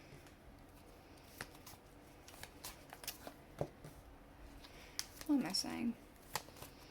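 Rider-Waite tarot cards are shuffled close by in soft, quick riffles and flutters that grow busier near the end, with a quiet voice speaking briefly over them.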